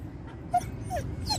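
Reactive dog giving a short high whimper and a couple of faint yips over steady outdoor background noise, close and brief.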